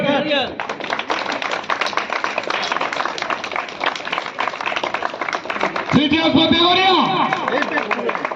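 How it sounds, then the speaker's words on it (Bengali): An audience at a pink-ball T-20 cricket tournament event in Rajarhat bursts into loud, rapid clapping that runs steadily for several seconds, with cheering voices and chatter rising toward the end. "একটা হাততালি দাও জোরে"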